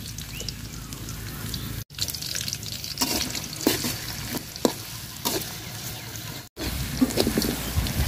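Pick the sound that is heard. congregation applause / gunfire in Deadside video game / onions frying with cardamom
onions frying with cardamom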